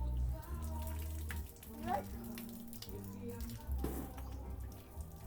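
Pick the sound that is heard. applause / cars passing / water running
water running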